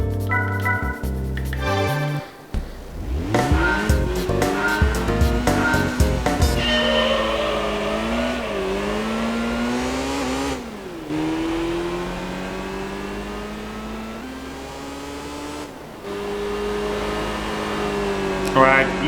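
Race car engine from a Gran Turismo 3 demo lap, a loud sustained roar with rising and falling pitch through full-throttle runs and brief gear-shift dips, heard alone without talk.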